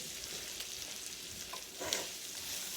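Butter melts and sizzles in a pan with sausage and its rendered fat, a soft, steady frying hiss close by and fairly quiet, with one slightly louder spit near the end.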